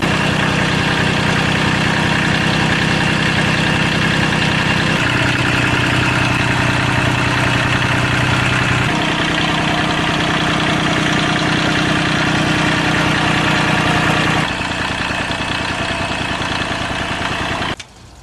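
A Kubota tractor's diesel engine, suffering from blow-by and treated with engine restore, idles steadily for a long stretch with a constant rumbling drone that shifts tone slightly now and then before cutting down at the end.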